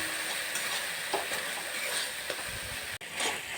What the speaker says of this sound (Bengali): এটাকেও কষিয়ে নেব ভালো করে।